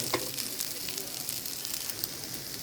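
Noodles frying in hot oil for vegetable noodles, a steady dense sizzle with crackling pops throughout, close and continuous with no talking.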